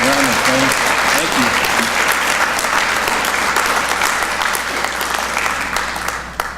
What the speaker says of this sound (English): Would you give our hosts a round of applause?